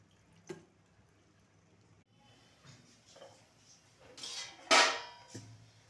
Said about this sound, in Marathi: आता आपण गॅस बंद करूया, नूडल्स गाळणीने गाळून घेऊया।